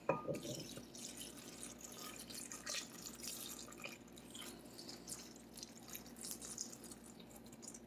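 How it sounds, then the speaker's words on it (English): Water poured into a potpourri pot: faint splashing and dripping trickles in a quiet kitchen, irregular small plinks and a soft running pour, brief louder burst at the start. "So now I'm going to put 2 more cups of water in."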